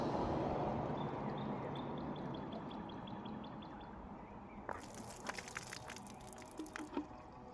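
Water poured outdoors on a sunny day, a bright splashing pour that starts partway through and runs in uneven bursts over a constant background hiss, with faint bird chirps early on.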